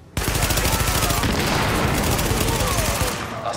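Rapid gunfire from The Division video game on Xbox One: a sudden onset, then dense, loud, sustained automatic bursts for several seconds before trailing off.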